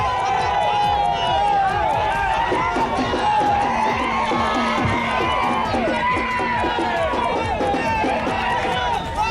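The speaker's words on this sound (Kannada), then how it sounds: "ಹುಬ್ಬಳ್ಳಿ ಚೆನ್ನಮ್ಮ ವೃತ್ತದಲ್ಲಿ ಅಭಿಮಾನಿಗಳ ಹರ್ಷೋದ್ಗಾರ ಮುಗಿಲು ಮುಟ್ಟಿತ್ತು" Cricket fans celebrating at Chennamma Circle in Hubballi after India's Champions Trophy win shout and cheer in a dense, steady outdoor crowd din, with a rapid rhythmic drum beating throughout.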